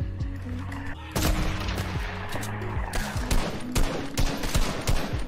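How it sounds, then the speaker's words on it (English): Rapid bursts of automatic gunfire and overlapping shots from a Fortnite battle, loud and continuous across the whole stretch, with sharper volleys near the end. "You're shooting someone else."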